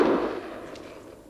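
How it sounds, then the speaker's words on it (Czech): A single sharp gunshot bang at the very start, followed by a fading rumble that trails off over about a second. "Střílí občas na kohouty"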